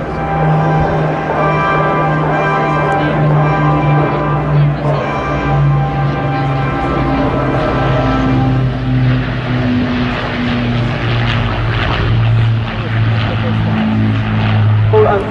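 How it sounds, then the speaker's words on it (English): Avro Lancaster bomber of the Battle of Britain Memorial Flight making a final display pass at an air festival, a loud droning multi-engine propeller hum with shifting pitch as it goes by, a voice talking over it. "Final pass for the Battle of Britain Memorial Flight, the Lancaster"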